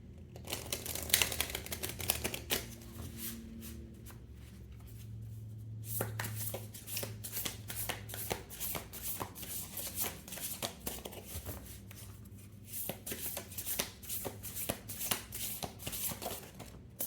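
Tarot cards shuffled repeatedly in the hands, a rapid series of crisp riffling bursts and flicks with short pauses between, close and fairly quiet.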